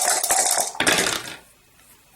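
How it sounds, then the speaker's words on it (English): Dice for the War of the Ring board game rattle and clatter as they are shaken and rolled onto a hard surface, loud and close. The burst of clicking fades into quiet. "so let's roll the dice"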